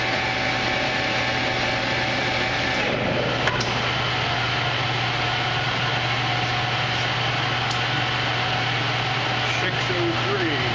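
Victor lathe spinning at 424 RPM, a steady, loud mechanical hum and whine with constant drone throughout and a couple of faint ticks, no talking heard.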